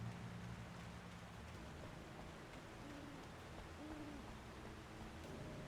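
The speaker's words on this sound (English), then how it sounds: "the subtle forest noises, like the owl hoots" An owl hoots softly a few times in a dark forest at night, distant calls over a steady wash of rain-like ambient noise.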